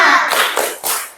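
A school class does a rhythmic 'tepuk semangat' clapping chant, heard as a short burst of three sharp, close hand claps in quick succession in an indoor classroom.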